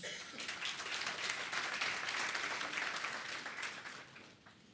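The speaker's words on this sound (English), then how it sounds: "maybe we give them another round of applause" An audience at a panel discussion during a sustainable energy week conference claps in sustained, dense applause that holds steady for several seconds before tapering off at the end.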